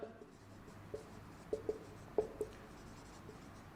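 Chalk or marker strokes on a board during a maths lesson, a run of short scratchy taps spaced irregularly, faint and close, with no talk over them.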